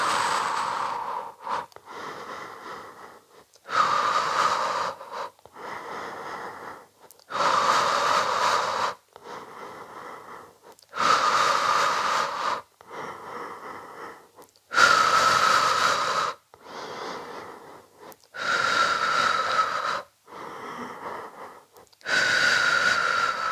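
Slow, deep breaths in and out during a Pilates exercise, about a dozen loud airy inhales and exhales alternating in a steady rhythm, close to the microphone with brief pauses between them.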